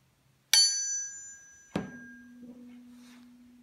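A sharp metallic strike from a hammer rings out, followed by a second tap that leaves a low, steady hum sustaining and slowly fading.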